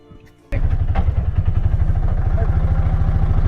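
A motorcycle engine catches abruptly after a brief quiet moment and settles into a loud, close, rhythmic thumping as it pulls away, with a few clattering knocks near the start.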